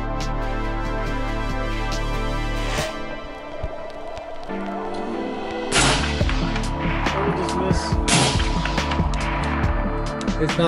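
Loud gunfire aimed at GoPro action cameras, with one sharp blast partway through followed by a burst of crackling noise and debris, and a second burst shortly after, outdoors under steady background noise.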